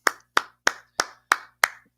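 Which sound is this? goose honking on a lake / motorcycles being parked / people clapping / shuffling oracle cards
people clapping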